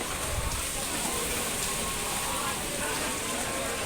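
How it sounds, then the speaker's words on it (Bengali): Heavy rain pours down on a morning fish market in Mirzapur, a dense, steady hiss of drops filling the whole span with faint crowd murmur beneath. "মানুষ থাকবে কিভাবে প্রচণ্ড বৃষ্টি দেখেন ছাতা নিয়ে এনে সবাই আসছে"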